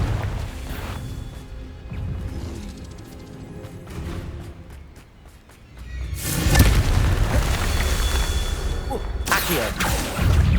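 Confringo fire spell blasts in Hogwarts Legacy hit as deep booming explosions with rushing whooshes, a rumbling burst early on, a quieter lull, then a louder sustained blast and debris roar in the second half.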